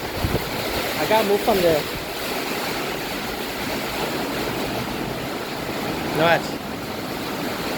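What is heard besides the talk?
wind and rain blowing in, Barbados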